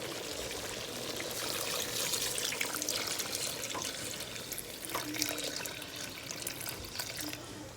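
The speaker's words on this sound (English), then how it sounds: "So I'm going to add my water now." Water pours in a steady, full rush into a pot of Jamaican-style curry goat, a continuous splashing stream that runs close and unbroken for several seconds.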